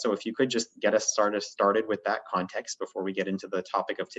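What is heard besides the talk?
None of the usual background noises is heard.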